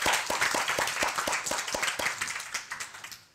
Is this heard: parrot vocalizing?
no